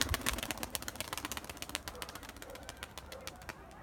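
Tumbler pigeons in flight give a rapid, steady flutter of wingbeats close by, with faint cooing and no talk.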